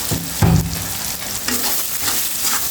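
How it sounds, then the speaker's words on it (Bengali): Greens with salt stir-frying in a pan, a close, continuous sizzle broken by scraping strokes of a spatula, one sharper knock near the start. "এখন আমি ভালোভাবে কষিয়ে নেব।"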